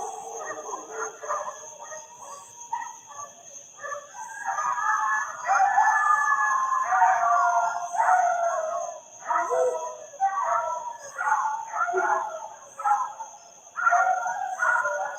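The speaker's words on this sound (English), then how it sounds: "that's my dog and my mom's dog." Dogs on a rural property howl and yelp in long, wavering, overlapping calls that rise and fall continuously at moderate distance, with a steady thin high-pitched tone running underneath.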